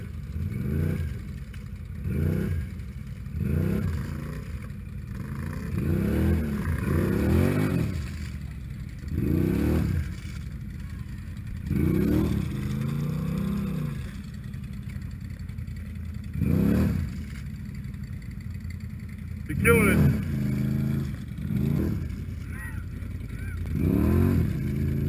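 An off-road vehicle stuck in a dig-out revs its engine in repeated bursts while its winch pulls it free, the surges rising and falling roughly every second or two, loud and close throughout.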